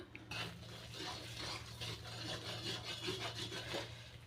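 Besan barfi mixture is stirred in a pan after the gas is turned off, giving faint, repeated rasping scrapes in a quick, even rhythm over a low steady hum, close and without talk.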